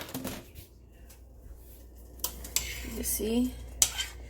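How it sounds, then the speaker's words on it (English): A spoon clinks and scrapes against a cooking pot while dumplings are stirred, in quick irregular bursts of metallic taps, close by, with a brief spoken remark partway through. "I'm going to just stir it really fast since I just put it in."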